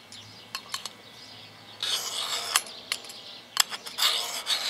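Knife blade sharpened with a Lansky sharpener: a few short rasping strokes, then a run of quicker scraping rubs of stone on steel close to the microphone.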